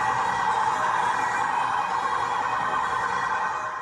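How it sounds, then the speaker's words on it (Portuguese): A siren sounds outside the Kiss nightclub in the early hours to commemorate the victims of the fire there, a steady sustained wail filling the whole stretch at high level with no voices over it. "uma sirene tocou em frente à Boate Kiss para lembrar o começo do incêndio 8 anos atrás"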